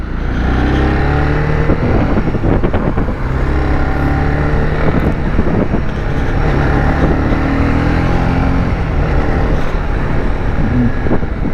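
Honda CB 300R motorcycle on a city test ride, its engine a steady loud drone mixed with road and wind rush throughout, with no one speaking.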